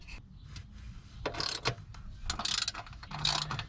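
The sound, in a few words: unscrewing screws from a battery mounting plate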